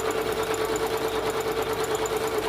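A sewing machine runs a short back stitch on fabric, its steady motor hum and rapid needle chatter continuous and fairly close for a couple of seconds.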